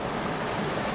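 A roaring stream in the Kolli Hills rushes along in a constant, loud, broadband wash of water with no break.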